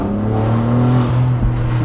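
A BMW G81 M3 engine revs while driving, a loud, close, sustained drone with a steady rising pitch and a brief blip near the end.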